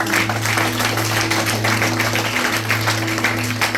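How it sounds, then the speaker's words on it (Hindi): A church congregation applauds in a continuous, dense wash of clapping over a steady low hum, loud and sustained throughout with no distinct voices. "आइए जोरदार ताली बजाएं अपने प्रभु यीशु की।"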